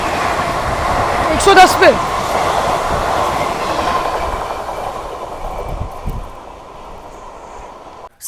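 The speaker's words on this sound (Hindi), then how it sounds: "आईसीएफ को ओवरटेक कर रहा है" Indian express train 19418 from Ahmedabad to Borivali runs at speed on the rails, giving a loud, continuous rumble with rhythmic clickety-clack and brief wheel squeal, while a voice speaks briefly over it.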